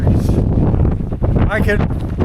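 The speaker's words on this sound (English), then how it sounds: "I always seem to hit these things when they have high wind advisories." Strong, steady wind roars across a microphone on a mountain trail during a high wind advisory, loud and continuous, with someone talking over the gusts.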